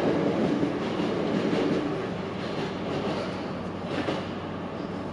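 Hankyu Senri Line train pulling into Awaji Station on elevated tracks, a steady rumbling carriage roar with faint rail noise heard from onboard, no voices.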